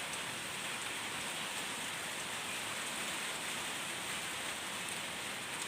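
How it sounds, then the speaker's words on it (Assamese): Steady rain falls across a garden during the rainy season, a dense, even hiss of drops on surfaces that stays unbroken and fairly close throughout, with no voices. "এতিয়া ইমান ধুনীয়াকৈ বৰষুণজাক পৰি আছে"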